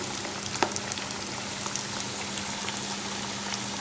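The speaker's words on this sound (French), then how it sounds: "Donc là, on les fait frire dans l'huile." Potato pieces stuffed with cheese fry in hot oil, giving a steady, fine crackling sizzle with occasional sharper pops and a faint constant hum beneath, no talking.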